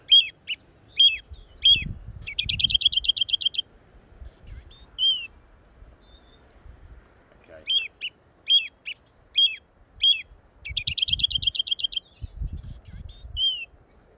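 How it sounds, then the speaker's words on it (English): Several wild birds call in turn: sharp repeated chirps, rapid trilled bursts and short whistles, clear against a quiet background with faint low rumbles. "I hope you could hear there that all those birds have got lots of different calls"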